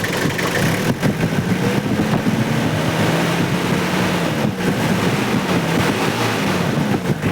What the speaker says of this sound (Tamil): வண்டி ஸ்டார்டிங்கில் தான் இருக்குது ரேஸ் பண்ணுற பாருங்கள்